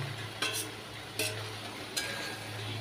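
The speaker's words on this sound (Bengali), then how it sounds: "এইবারে আগের থেকে ভেজে রাখা এঁচোড় আর আলুগুলো এতে সব দিয়ে দেব।" Previously fried jackfruit and potato pieces tumble into sautéed masala in a pan, a steady sizzle with three sharp bursts of stirring and scraping, close and moderately loud, no voices.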